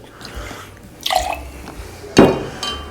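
Vermouth is poured while a La Louisiane cocktail is mixed, giving a short liquid splash and dribble, then a sharper splash a moment later, fairly close and with no talking.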